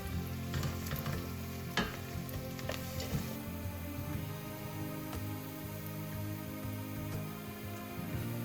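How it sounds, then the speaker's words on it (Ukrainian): Steady sizzling of garlic frying in a pan, with occasional clicks and stirring scrapes, close and continuous, no talking. "Це разом смажу ще кілька хвилин, так, щоб часник віддав свій аромат, але не підгорів."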